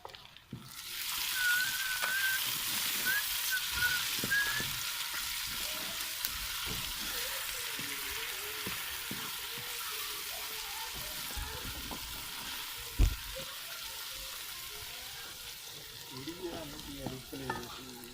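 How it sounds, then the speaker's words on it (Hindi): Tomatoes and green chillies frying with browned onions in a pan: a steady, moderately loud sizzle with occasional stirring scrapes and a single sharp knock near the end, with no talking. "और अब टमाटर और हरी मिर्च जो है डाल देंगे।"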